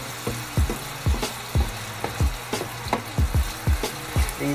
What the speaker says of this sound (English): we are going to saute these